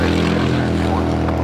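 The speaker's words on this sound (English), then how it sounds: "takeoff here on the south side, American Airlines Flight 1221 heading to Miami, Florida. It's an A321 Neo." An American Airlines Airbus A321neo takes off at LAX, a loud sustained engine roar with a deep droning rumble, brief and continuous.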